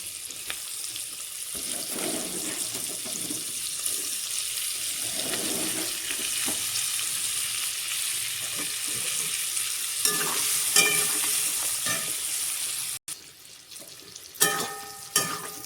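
Mango pieces for a homemade spiced pickle tipped into hot spiced oil and stirred, giving a steady close sizzle and scraping under a running tap, with a few sharper clinks near the end; no voices.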